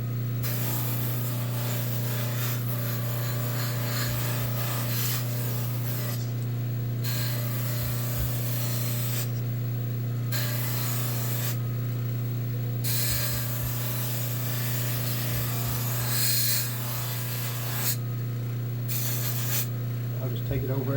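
Sandpaper rubs steadily back and forth over a wooden shotgun stock at a sanding table, a continuous close gritty scraping with a few brief pauses, over a constant low machine hum.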